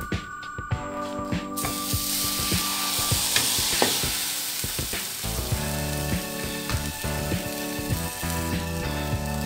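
Food placed back into a hot frying pan, a loud bright sizzle that bursts up and then settles into steady crackling, with some clattering utensil knocks, close and alone.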